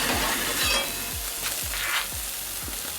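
Wagyu burgers, brisket and onion sizzle on a hot grill in a steady, close crackling hiss, with faint rhythmic low thumps underneath and no talking.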